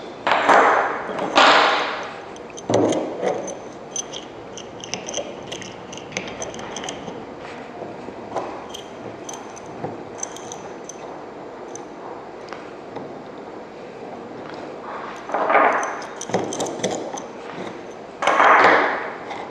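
A Series S56 petrochemical normally open solenoid valve is taken apart, its metal parts clinking and knocking in sharp bursts at the start and end, with quieter handling noise between.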